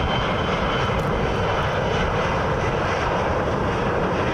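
An Embraer E175 jet sits at Columbus John Glenn airport with its engines running, giving a loud, steady broadband roar that stays constant and close without any break.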